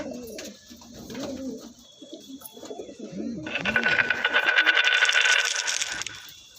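Pigeons coo softly nearby in a loft, low throaty warbles that are later joined by a dense rattling, jingling clatter, with faint speech in the background.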